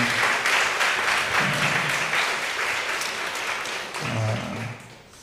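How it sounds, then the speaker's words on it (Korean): Church congregation applauding at a Wednesday dawn worship service, a steady wash of many hands clapping together that holds for several seconds and then tapers off. "여러분, 이 아름다운 하늘 사람들, 천국의 기둥들을 위해서 큰 박수를 한번 합시다."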